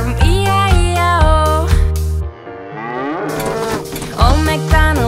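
A cartoon cow moos in a children's farm nursery song, the long lowing notes sitting inside bright sung music and instruments rather than standing alone.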